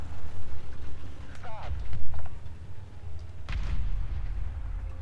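Tank cannon fire and explosions in War Thunder battle, several heavy booming blasts with rumbling low end, two sharper bursts standing out, under excited talk from players.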